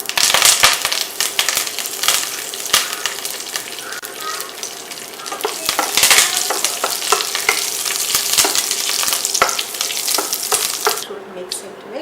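Curry leaves splutter in hot coconut oil with mustard seeds in a heavy-bottomed pan, a loud, dense crackling sizzle with sharp popping snaps throughout, close up.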